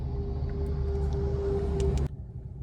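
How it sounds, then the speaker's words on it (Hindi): Steady low hum of a Maruti Fronx air conditioner blowing inside the closed cabin with the engine idling, a constant drone with a faint tonal whine, cutting off abruptly near the end. "अभी AC की साउंड है ये"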